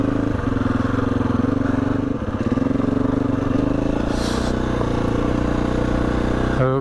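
A motorcycle engine drones steadily up close, the revs rising and falling as the rider tries to lift the front wheel over a tree trunk, with a brief clatter near the end.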